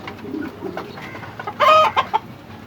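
Kadaknath chickens, about four and a half months old, cluck nearby in a small cage setup, with a louder burst of clucking and squawks standing out over a quiet yard background.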